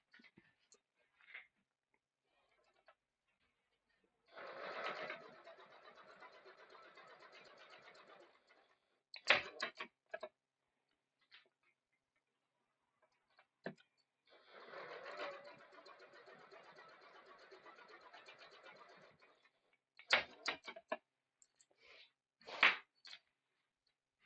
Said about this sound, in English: So I'm just sewing from here to here, here to here, using 3/8 of an inch seam allowance